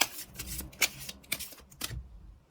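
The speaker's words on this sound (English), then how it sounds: "let's pull some tarot cards" Tarot cards being shuffled and pulled from the deck: a sequence of crisp riffles, snaps and slaps at irregular intervals, close and clear, with no speech.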